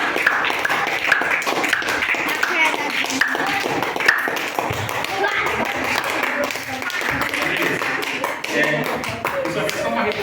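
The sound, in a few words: church congregation applauding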